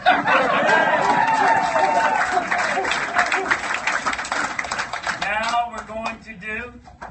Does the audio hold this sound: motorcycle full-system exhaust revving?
no